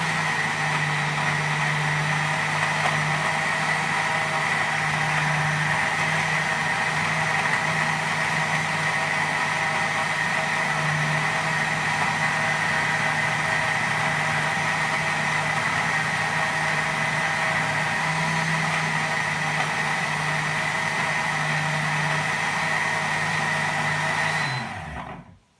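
Blender blending a spicy banana and carrot smoothie, a loud steady whirring motor that runs continuously for about 25 seconds before abruptly cutting off, no voices.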